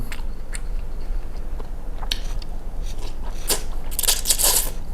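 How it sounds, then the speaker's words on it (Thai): Close, crunchy chewing of scallop with crackling bites, getting louder and crisper near the end; no speech. "หอยเชลล์คือกรุบมากนะครับ"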